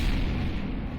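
A tank cannon fires in Garry's Mod with the ACF mod, a loud, heavy booming blast whose low rumble fills the whole moment without any voice over it.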